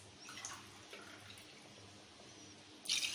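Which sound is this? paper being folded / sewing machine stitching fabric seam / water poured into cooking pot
water poured into cooking pot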